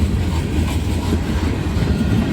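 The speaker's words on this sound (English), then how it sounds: "Wow, pulling 9 cars, that's bigger than normal." Freight train of nine cars, including Chicago and North Western and Soo Line equipment, rolling steadily past close by, with a continuous low rumble and rhythmic wheel clatter throughout.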